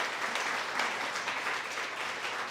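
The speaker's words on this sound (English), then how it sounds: "a special round of applause is in order" An audience at an International Women's Day interview event gives a round of applause, a brisk, full spread of many people clapping at steady strength for a couple of seconds.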